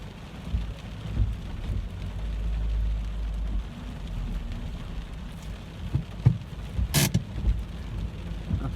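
Heavy rain pours down steadily in a car during a bay parking reverse lesson, a dense continuous hiss with low rumble and a few sharp knocks and splashes near the end.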